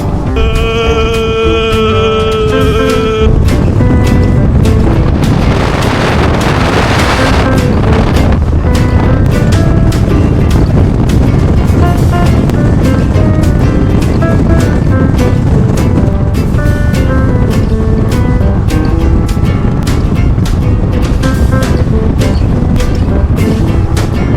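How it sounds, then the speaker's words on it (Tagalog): Strong wind buffets the microphone in a constant loud roar for the whole stretch, with faint tonal sounds early on. "Oo, sobrang hangin"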